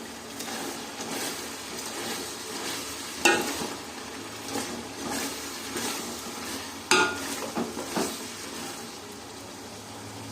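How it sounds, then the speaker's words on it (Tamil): Ginger garlic paste sautéing in a pan for Badami nattu koli biryani, a steady low sizzle with a spoon stirring and scraping, plus two sharp metal knocks against the pan. "இப்போ இஞ்சி பூண்டு நல்லா வதங்கிடுச்சு."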